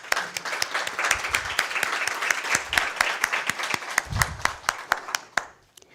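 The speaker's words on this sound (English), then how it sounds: "I want to really give them a big applause for this." An audience at an association's general assembly gives loud, sustained applause, dense overlapping clapping that holds steady for several seconds before thinning out to a few last claps.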